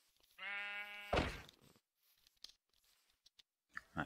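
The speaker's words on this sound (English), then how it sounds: "I'm gonna push the sheep again." A single sheep bleats from Minecraft, a steady harmonic baa lasting under a second, followed by a sharp thump and scattered small game clicks and taps.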